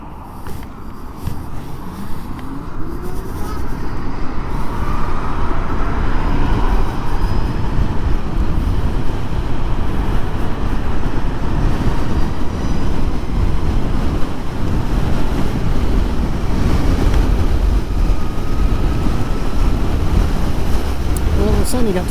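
A Zero SR/S electric motorcycle is ridden at 70 mph on the M1 motorway, heard as constant loud wind roar and rushing road noise close to the rider, with no clear talk.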